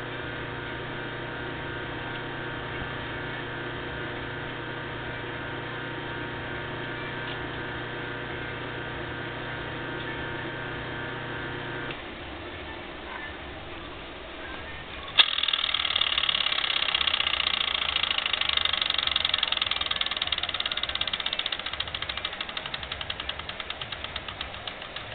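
A 1/4 hp electric motor running, first a steady tonal hum with strong harmonics, then after a brief dip a louder, brighter whirring buzz that continues to the end, with no talking.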